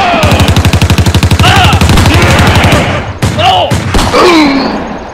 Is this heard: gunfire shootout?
yes